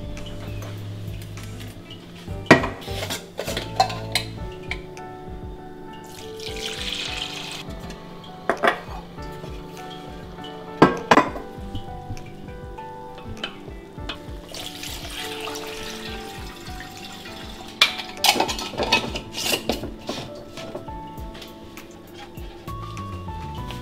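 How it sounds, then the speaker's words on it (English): Goat milk is poured through a milk filter into a container, with gentle trickling and pouring water sounds mixed with clinks and knocks of metal pots and lids, close by and intermittent. "First thing we're gonna do is we're gonna strain the milk. I have here a milk filter that is made for straining milk."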